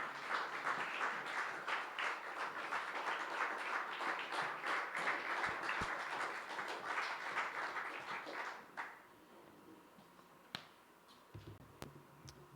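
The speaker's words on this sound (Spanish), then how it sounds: "Ponte de pie y síguele aplaudiendo." A church congregation applauds together during a worship service, dense steady clapping for about eight seconds that then thins out to a few scattered claps and taps in a quieter room.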